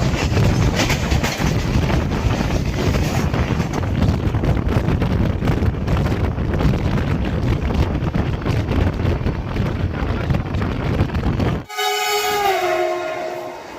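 The Kanyakumari Express roars past at close range with heavy wind-buffeted rumble and rattling wagons, then its horn sounds near the end as a loud, sustained, slightly falling tone.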